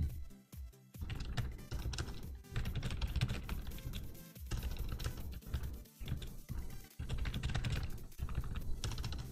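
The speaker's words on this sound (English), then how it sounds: "Wow, cannot type tonight." Close, fast typing on a computer keyboard, a dense stream of key clicks in quick uneven bursts with brief pauses, and no talking.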